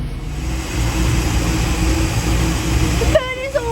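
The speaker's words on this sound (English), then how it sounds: "Okay, the blowers are on." Boat blowers running, a steady low whir with a motor drone beneath, joined near the end by a brief high tonal sound.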